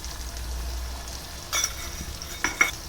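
Masala paste sizzles with softened tomatoes in a pan for a Kathiyawadi moong curry, a low steady frying hiss marked by a few short scraping stirs, close and fairly quiet.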